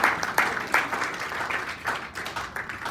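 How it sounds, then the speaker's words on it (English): An audience at an Italian-themed lunch event claps in applause, a dense patter of many hands with a few louder swells that fade gradually. "How about a nice round of applause for the administration here that put this on"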